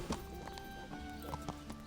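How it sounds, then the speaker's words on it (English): Horse hooves and a whinny in the medieval video game Kingdom Come: Deliverance: a steady clip-clop of hoofbeats, close and moderately loud, with a brief neigh, while faint voices talk in the background. "A horse right in front of you?"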